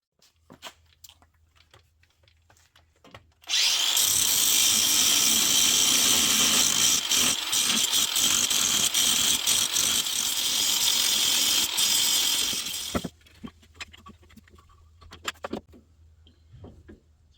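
Power grinder biting into a metal frame tab to make room for a Hester shock, a loud continuous harsh grind of about nine seconds with quieter workshop clatter before and after.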